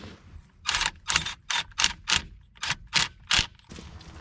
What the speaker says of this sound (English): Now I am gonna rattle it up with my impact just to speed up the process.